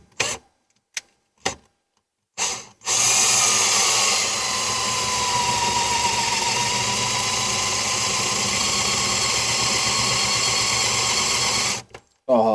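A few short mechanical bursts, then a power drill runs continuously for about nine seconds drilling holes for a battery mount, with a steady whine, close and loud, stopping near the end.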